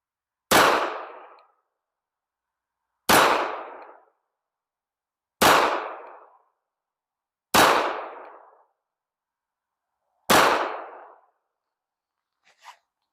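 Five sharp, evenly spaced pistol shots from a Walther WMP firing .22 WMR rounds, each a loud crack with a short fading tail, separated by clear silences.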